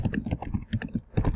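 Typing on a computer keyboard: a quick, uneven run of soft key clicks, close and fairly quiet, with no other sounds around it.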